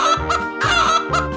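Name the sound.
chicken clucking in a 3D animal slide video game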